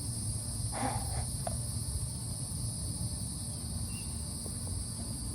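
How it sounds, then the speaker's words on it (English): Crickets chirp continuously in a high, steady trill, with faint low background noise and no voices. "Crickets."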